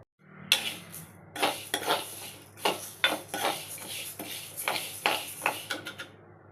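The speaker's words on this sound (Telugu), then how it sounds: "సిమ్లోనే పెట్టి మెల్లిగా వేయించుకోవాలి." Lentils and sesame seeds dry-roasting in a pan over a low flame, with repeated metallic scrapes and clinks of a spoon stirring against the pan and a faint sizzle beneath, close and rhythmic, no talk.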